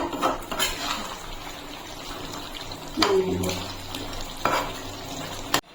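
Chilli chicken stirred in a pan with a spatula, a few scraping strokes and clinks against the metal over a soft low sizzle, close and moderately loud.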